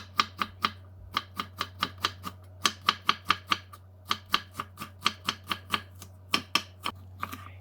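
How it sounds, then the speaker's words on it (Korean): A knife slicing green onion into thin rounds on a cutting board, crisp rapid chops in a steady rhythm with a few brief pauses, close and clear with a low constant hum underneath. "대파는 동글동글하니 송송 썰어 줍니다."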